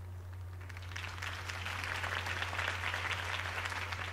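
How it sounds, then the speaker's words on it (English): Sustained crowd applause and clapping at a political campaign speech in Batman: The Telltale Series, fairly loud and steady, over a constant low electrical hum, with no speech. "If only Mr. Wayne, my campaign's largest backer, could have heard that applause"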